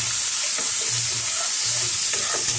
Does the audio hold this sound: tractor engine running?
no